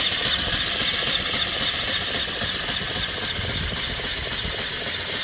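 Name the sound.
vertical steam engine running with flyball governor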